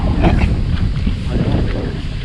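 Steady low wind rumbling against the microphone outdoors, a continuous buffeting roar with no pauses.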